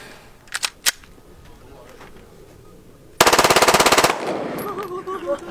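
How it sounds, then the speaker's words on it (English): Glock Model 17 9mm pistol converted to full auto fires one rapid, loud burst of about a dozen shots at a shooting range, preceded by a few earlier pops, with voices talking before and after. "this is a Glock Model 17 I just converted to full auto, 9mm, and it shoots a rate of 600 bullets a minute"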